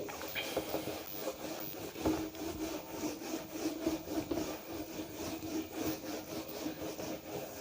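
A duster rubs a board clean in a physics classroom with repeated quick, scratchy back-and-forth strokes in an uneven rhythm, close and moderately quiet.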